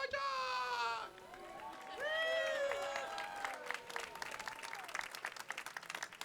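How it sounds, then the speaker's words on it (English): A crowd at an opening ceremony cheers and whoops loudly, with high voices rising over the noise, then breaks into dense rhythmic clapping and stomping that grows choppier toward the end. "please stomp your feet, clap your hands, go crazy for John Boychuk!"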